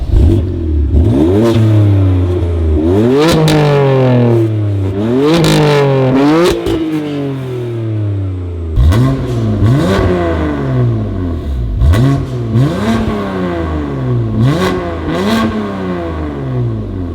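A BMW M2 Competition's exhaust revs repeatedly, each blip rising sharply and falling back to a burbling idle, loud and close.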